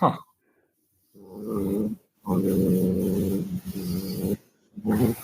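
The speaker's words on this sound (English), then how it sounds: "What was growling? The cat. That was a cat." A house cat growls in several low, rumbling bursts separated by short pauses, close and fairly loud, with a brief human exclamation at the start.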